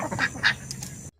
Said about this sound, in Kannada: ಈಗ ಡಕ್ಕು ಎಷ್ಟು ಚೆಂದಾಗಿ ಕರಿತು ನೋಡ್ರಿ